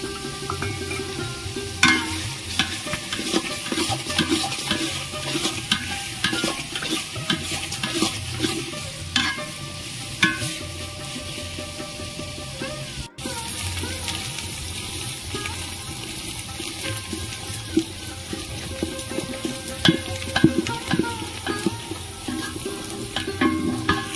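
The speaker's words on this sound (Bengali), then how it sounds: "পেঁয়াজ ভাজা হয়ে গেছে, আমি লাল লাল করে ভেজে নিয়েছি।" Onions fry with cumin, bay leaves and whole garam masala in a pan for mutton curry, a steady loud sizzle under repeated scraping stirs and clinks of a spoon, with no voices.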